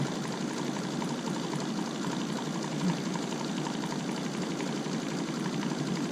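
A sewing machine runs steadily, stitching through a thick, puffy quilted hot pad with a continuous even whir that stays close and loud for several seconds, with no talking.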